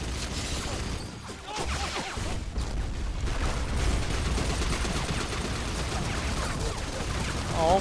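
Gunfire in the online shooter Battlefield Heroes, dense rapid bursts of shots layered over game noise throughout, with players' voices faintly mixed in.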